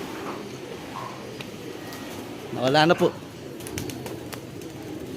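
Pigeons in a breeder's loft give a short burst of soft cooing and a few chirps over a low, noisy background, with a person speaking briefly nearby.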